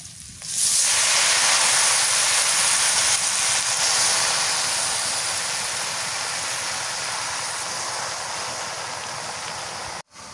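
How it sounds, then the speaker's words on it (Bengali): Malabar jute leaves hit a hot pan and fry with a loud, steady sizzling hiss that starts abruptly and holds for about ten seconds before cutting off. "শাকটা ভাজতে বেশি সময় লাগবে না, অল্প একটু সময় তো হয়ে যাবে।"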